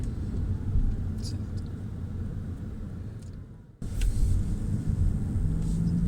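A Lexus UX250h hybrid car drives along, heard from inside the cabin as a steady low road rumble and engine hum, with a brief dip near the middle before the drone returns, a little louder.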